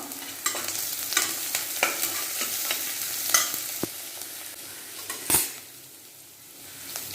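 Chopped cabbage sizzling in a pan, with repeated scraping stirs and clinks of a utensil against metal, close up, no talking.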